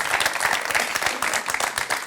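Steady, dense applause from a studio audience, many hands clapping close by at an even level for the whole stretch.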